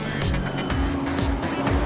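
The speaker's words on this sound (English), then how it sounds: "I am pushing this car to as far as it can go" A race car in a racing video game, its engine droning steadily near and loud, with tire squeal and pulsing gear or rev changes throughout.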